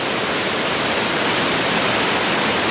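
Water rushing down a waterfall on a glacier hike in Norway, a steady, loud, broadband roar that stays constant throughout with no voices over it.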